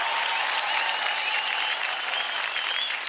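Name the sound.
applause for dancers Vikram and Niharika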